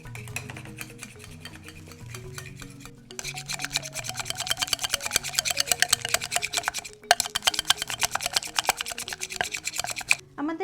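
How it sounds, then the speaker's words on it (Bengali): Room-temperature butter being whisked by hand in a bowl for an eggless Christmas fruit cake, a steady rapid scraping and rubbing that grows louder and denser after a quiet start, with soft background music underneath. "এবার এই বাটারটাকে খুব ভালো করে হুইস্ক করতে হবে।"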